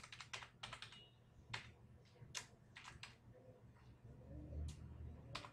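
Fingers type on a computer keyboard in quiet, uneven bursts of rapid clicking keystrokes with short pauses between them, close by over a faint low hum.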